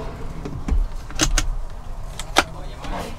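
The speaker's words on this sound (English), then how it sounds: "Another little drawer." A small drawer in a motorhome at a show slides open and shut, giving several short knocks and sharp clatters close by against a busy indoor background.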